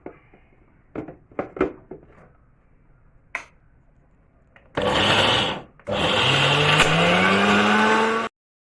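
A grinder or blender crushes a spice paste with salt added, with a few sharp knocks and taps first, then two loud sustained whirring runs of motor noise, the second long and steady before stopping abruptly.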